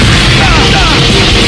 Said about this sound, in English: when you reach full capacity, you can pull off a powerful, somewhat Proton Cannon!